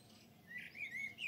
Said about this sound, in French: Ah bah il est là le merle.